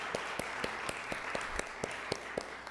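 Audience applause for Head Start children at a Springfield public health month kickoff, a steady wash of clapping with a few sharper individual claps standing out, moderately faint and without talk.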